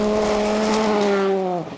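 WRC rally car at Rally Finland 2000 sliding through a corner, loud close engine note holding steady high revs with strong harmonics, then dropping and fading briefly at the end as it slides past.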